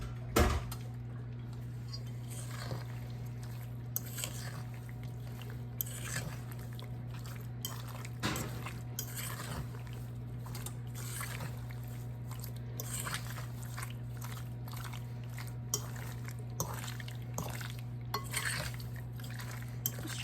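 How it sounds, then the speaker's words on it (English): Black cherries are stirred into pie filling in a bowl. A spoon quietly clinks and scrapes against the bowl in scattered, irregular knocks over a low steady hum, with no talk. "I'm going to add the cherries in, and then I'm going to stir everything together"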